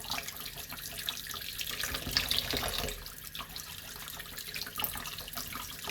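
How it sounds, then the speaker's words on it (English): Ginger root is scrubbed under a running kitchen tap, with a steady, close stream of water splashing into the sink and the hiss rising as hands move the root through it. "we have to wash your ginger really good"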